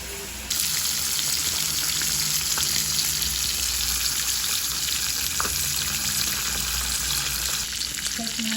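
Milkfish (bangus) steak frying until brown in hot oil, a steady loud sizzle and crackle running without a break, with a low hum underneath and no talking.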